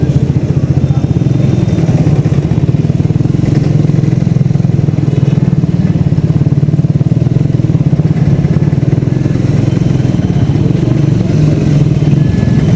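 A motorcycle idles at a traffic signal on a road in Kolkata during a touring ride toward Purulia. Its engine throbs steadily and loudly up close for the whole stretch, with a low, continuous rumble and faint clatter.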